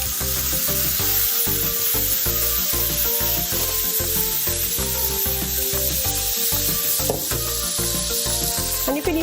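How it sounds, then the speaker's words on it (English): Beef sizzles in a teaspoon of oil in a non-stick pan, a loud, continuous frying crackle punctuated by regular scraping strokes as it is stirred, with no voices. "I'm just gonna fry this up"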